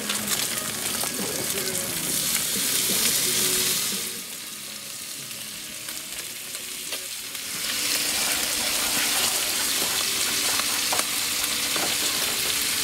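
Rice sizzles and fries steadily in a pan at a snowy overland camp as chimichurri sauce goes in, the hiss dipping briefly midway before returning loud and continuous, with stirring scrapes throughout.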